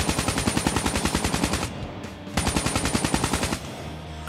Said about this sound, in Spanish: Y disparamos al centro y mantenemos presionado el disparo.